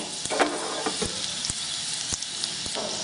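Hot oil sizzles and crackles steadily close by, a dense hiss punctuated by small pops as chillies and spices fry for a tempering.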